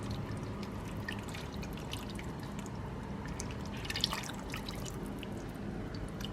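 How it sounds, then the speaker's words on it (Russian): Tomato sauce poured over meat and potatoes in a baking dish for the oven, a soft liquid splashing and dripping with a few brighter splats, fairly quiet and unaccompanied. "Заливаем соусом."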